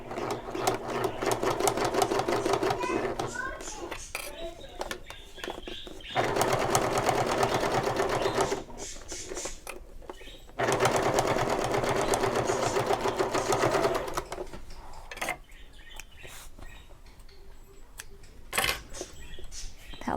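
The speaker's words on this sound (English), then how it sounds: "I'm going to sew right on the edge of this binding." A sewing machine edge-stitches along the binding of a shoulder bag in steady, rapid bursts, with short pauses between runs and a quieter stretch near the end.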